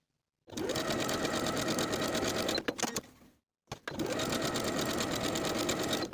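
A sewing machine runs fast and loud, top stitching a denim skirt yoke seam in two long continuous bursts separated by a brief pause.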